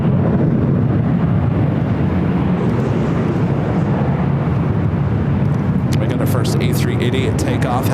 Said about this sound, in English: A380 takeoff happening